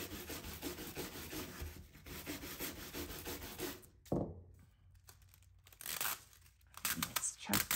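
Transparent transfer foil being scrubbed down firmly by hand, a dry rubbing and crinkling that runs in bursts with brief pauses and a sharp tearing sound midway, while a person talks over it.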